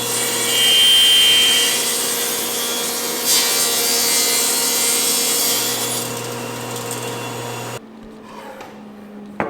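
A saw blade cuts steadily through a 2-inch thick burr oak board, a loud continuous grinding whine for most of the time before stopping abruptly, leaving a quieter workshop tail.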